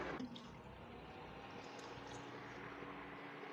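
Water is poured into a pan to cook Maggi noodles, giving a soft, continuous rushing splash that stays faint and even from start to finish.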